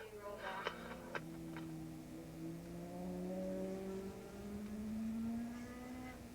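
At Willow Springs Raceway during a 1987 AFM 750 class race, a racing motorcycle's engine drones faintly in the distance, its pitch slowly rising as it passes, under quiet commentary.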